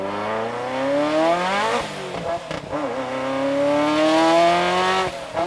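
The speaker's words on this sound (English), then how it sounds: "The sound from inside the engine bay" A Ferrari engine, recorded from inside the engine bay, revs loudly and close, its pitch climbing in sweeps, dropping sharply between gear changes, then rising again in a strong, continuous roar.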